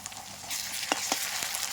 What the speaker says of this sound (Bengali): এবার এই পেঁয়াজ ভাজার মধ্যে আমি দিয়ে দিচ্ছি আদা রসুন বাটা